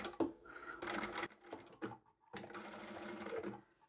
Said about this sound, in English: then continue on all the way to the end. And remember to sew as close to the teeth as you can.